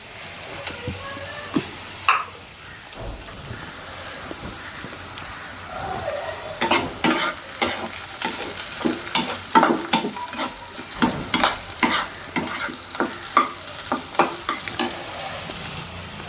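Onion and garlic fry in hot oil with a constant sizzle, broken by frequent sharp scrapes and clinks of a spatula stirring against the pan, close and fairly loud.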